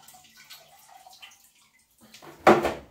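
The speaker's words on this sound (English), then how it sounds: "I pour on this sparge water, which is just water, same as the brewing water." Heated sparge water, plain brewing water, poured from a vessel onto mashed grains in an old fermenter used for sparging during a session IPA brew. Faint trickles give way near the end to a short, loud, close splash of pouring water.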